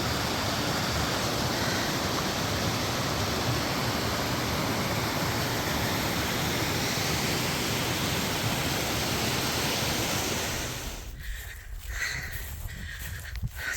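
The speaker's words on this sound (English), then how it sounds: "The waterfall is back there." Steady, broad rushing roar of a waterfall in a gorge, loud and continuous, easing slightly near the end as other faint noises cut in.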